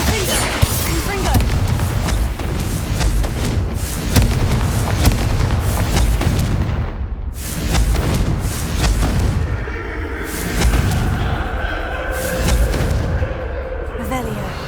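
Confringo fire spell blasts in Hogwarts Legacy, a run of booming explosions and crackling bursts layered over game music and ambience, loud and close with brief lulls.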